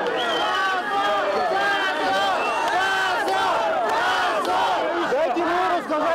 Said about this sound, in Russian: Целый час толпа не замолкала и требовала, чтобы приехал мэр.